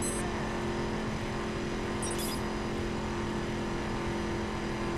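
A car engine drones steadily while driving in the racing game The Crew on PS4, a constant loud hum with no break and a brief high chirp partway through.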